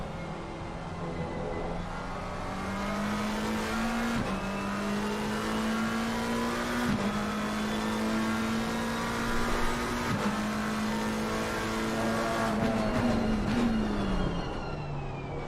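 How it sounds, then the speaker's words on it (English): A race car in a sim racing game at Indianapolis drops through its gears while braking, the engine note stepping down in a run of sharp, punchy blips, loud and close with no voices over it. "you can just hear that gearbox going down as well, just boom, boom, boom as it goes down"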